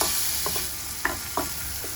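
Chopped tomatoes hit a hot pan and fry with a steady hiss, joined by a few soft stirring scrapes and light clicks of a utensil.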